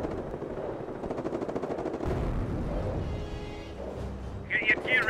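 A gun emplacement firing in the Company of Heroes strategy game, with steady machine-gun rattle, a heavy thump midway and distant battle noise, while soldiers' voices speak over it.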